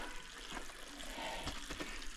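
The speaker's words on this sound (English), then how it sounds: "There's the piping where the water comes out." Water flowing out of a pipe at a hillside site near a cave in Arkansas, a continuous faint rushing trickle heard from a short distance, steady throughout with no talking.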